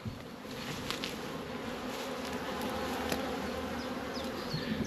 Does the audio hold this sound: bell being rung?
no